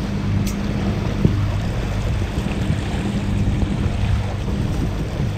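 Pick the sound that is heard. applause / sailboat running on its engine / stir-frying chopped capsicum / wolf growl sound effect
sailboat running on its engine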